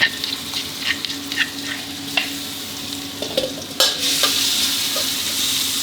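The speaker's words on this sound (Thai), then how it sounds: "ผัดพริกกระเทียมให้ออกกลิ่นหอมดีเลยนะครับ" Coarsely pounded chili and garlic stir-fried in hot oil for a holy basil omelet dish: quick spatula scrapes over a crackling sizzle, which surges into a louder, steady hiss partway through.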